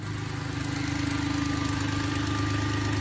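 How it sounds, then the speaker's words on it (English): A 2004 Mustang's 3.9L V6 idles low and steady, close by, with a constant rumbling hum and faint vibration throughout, and no voices. "may sound like it's idling pretty low,"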